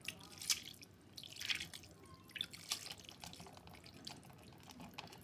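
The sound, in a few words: water being added to the fish dish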